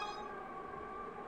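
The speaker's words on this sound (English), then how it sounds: "Arisa escapes all her friends when they hear a police siren, they sigh relieved." A police siren in the horror video game Creeping Terror wails steadily, a sustained moderately loud tone carrying through the whole short stretch with no talking.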